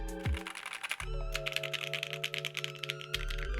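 Rapid clacky keystrokes on a Tofu 65% mechanical keyboard, a quick burst of close, steady typing with no one talking.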